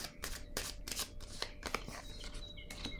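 A playing card is laid down on a table amid a run of crisp papery snaps and flicks, several sharp clicks in quick irregular rhythm, close and fairly quiet, with faint high chirps toward the end.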